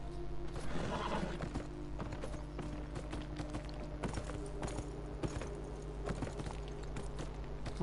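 Horse hooves clop and shuffle in a rural pasture scene from the video game Beyond Two Souls, with a brief neigh early on, all quiet and steady against a low ambient bed.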